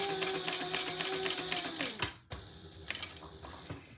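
A sewing machine stitching a Pebble Mini Sling bag runs in a fast, even mechanical whir for about two seconds, stops briefly, then resumes in shorter, more uneven bursts, close and fairly quiet.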